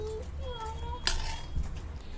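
Tomato chutney is moved into a serving dish with a spoon, giving soft scraping and one sharp clink of metal on the vessel midway. A voice hums faintly underneath.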